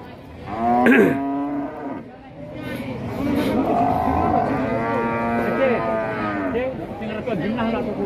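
Cattle moo repeatedly, including a PO breed cow, a long low bellow and other calls, over a busy background of people chattering nearby at a livestock market.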